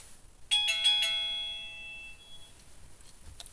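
A wireless USB doorbell chimes once as it is plugged in: a loud, bright ding-dong of several ringing tones that sustain and slowly fade, heard close up with no talking.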